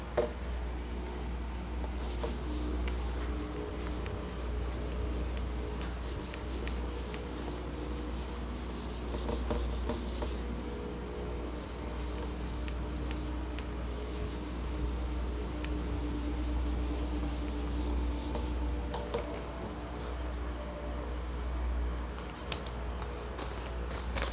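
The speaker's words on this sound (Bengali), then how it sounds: "আমি লিখছি, তোমরা দেখো।" A teacher writes out notes by hand, a soft continuous scratching and rubbing that runs steadily for the whole stretch, faint and close over a low background hum, with no talking.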